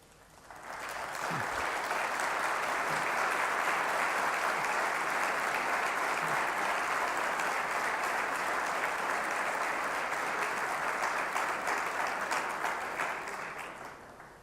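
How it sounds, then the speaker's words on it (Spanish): Priests at a national clergy gathering break into long, sustained applause that rises quickly, holds at a full, even roar for over ten seconds, then tapers near the end. "me emociona ese aplauso"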